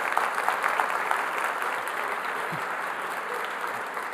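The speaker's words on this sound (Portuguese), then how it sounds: "Uma salva de palmas para todos os nossos voluntários que aceitaram esse desafio." Steady applause from a crowd, continuous clapping held at an even level throughout, heard at a moderate distance.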